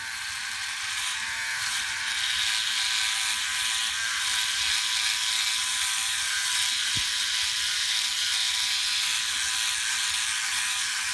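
A Philips OneBlade electric razor buzzes steadily as it shaves stubble during a wet shave, a constant close whirring hum with no pauses or talking.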